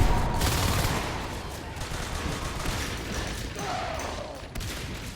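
Rapid gunfire in the video game Natural Selection 2 during a competitive match, a steady dense rattle of shots lasting the whole stretch at fairly constant loudness, with a brief burst of a different sound near the end.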